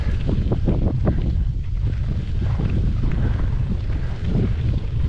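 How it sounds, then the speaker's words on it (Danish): Strong wind blows across the Sierra Nevada mountain tops, buffeting the microphone with continuous low rumbling gusts and a loud, close roar. "Og vinden kommer, som sagt, fra nord i den retning over toppene."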